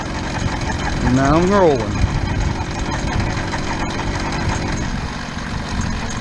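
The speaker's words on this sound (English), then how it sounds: "When the motor fully engages, I can stop pedaling." A gas-powered motor fitted to a bicycle runs steadily after the clutch engages, a close, buzzing engine drone with a brief rising rev near the start, while someone talks over it.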